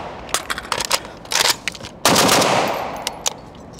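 An AK47 with an Unrivaled muzzle brake, 16-inch barrel and full-power .30-caliber ammo fires a quick string of sharp shots, then one loud blast that rings out and trails off, followed by a few lighter pops.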